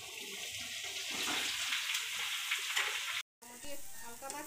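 Young jackfruit curry sizzles lightly in a pan, a steady hissing fry close by that cuts out briefly near the end before resuming.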